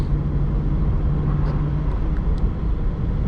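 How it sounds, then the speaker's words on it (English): Chevrolet C8 Corvette accelerating on a snowy highway, a steady engine drone with road and tyre noise heard from inside the car. "Okay, let's accelerate."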